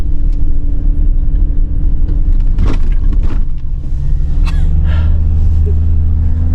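A car drives a snowy mountain road past ice caves and a snowfield, with a loud steady engine rumble and road noise throughout and a few brief thumps, with no speech.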